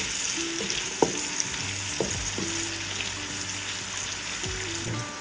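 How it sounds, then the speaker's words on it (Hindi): Onions sizzling in hot oil with spices for a mutton and potato curry, a steady close frying hiss with occasional stirring clinks and scrapes from a utensil, no voice present. "प्याज को भी फ्राई कर लें।"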